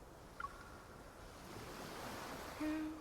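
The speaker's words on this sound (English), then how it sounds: "the sound of the ocean" Ocean surf rolls softly onto a shore on a gloomy day in Love and Deepspace, a steady, faint wash of waves with a brief chime early on and a short tonal note near the end.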